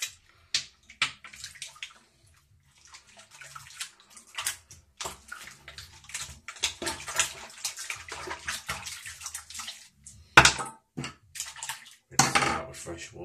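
A Bic Chrome Platinum razor is rinsed under running water, irregular splashing and gushes with light metallic clinks against a sink, growing louder and busier toward the end.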